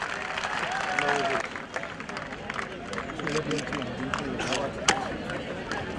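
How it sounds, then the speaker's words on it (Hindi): Crowd applause at a state-level polytechnic sports competition event honoring a minister; sustained, steady clapping throughout with crowd babble mixed in, fairly close and continuous. "आज सभी से मेरी गुजारिश है कि जोरदार तालियां"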